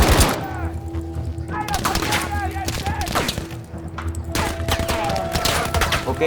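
Rapid bursts of close gunfire from the Battlefield V video game crack in dense clusters, with thuds and scattered shots between the volleys.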